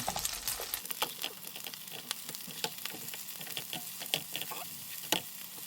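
Oyster pancake (gul-jeon) frying in an oiled pan, a steady close sizzle and crackle with scattered sharp pops and spits throughout, no voices.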